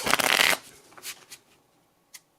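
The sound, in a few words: shuffling a deck of playing cards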